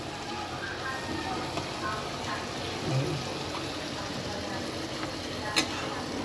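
Blended onion paste and spices for tandoori chicken, with a splash of water, are stirred in a pan, giving a faint continuous sizzle and soft scraping of the spoon, with a brief clink near the end.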